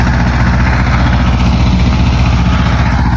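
A tractor engine idles and runs steadily nearby in a grape vineyard during spraying, a continuous loud low droning rumble with no gaps.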